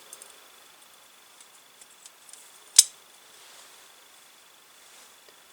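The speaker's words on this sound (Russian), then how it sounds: "Кладем нож на прижимную планку." A steel planer knife for a JET-12 thicknesser is set down on the clamping bar, making one sharp metallic click midway through an otherwise quiet stretch. No one speaks.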